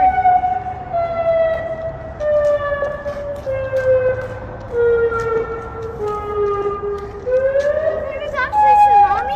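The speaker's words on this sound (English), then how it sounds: "It's a tsunami warning. It's all along the coast." A coastal tsunami warning siren near Half Moon Bay wails in a long, rising and falling tone that carries from a distance. People talk in worried voices over it.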